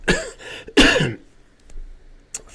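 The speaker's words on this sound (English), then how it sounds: "Just have this nagging cough." A single hoarse cough followed by a harsher second cough, close and loud, then quiet with a faint breath at the end.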